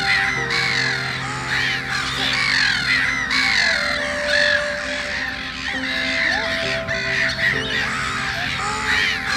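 A colony of black-headed gulls near their freshly hatched chicks raises a loud, dense cacophony of harsh overlapping alarm calls, continuous and close throughout.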